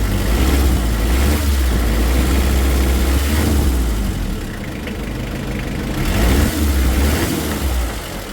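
An overhauled Mitsubishi 4D56 diesel engine idling, a loud, close, steady low rumble with a rough diesel clatter, easing slightly in the middle before settling back to an even idle.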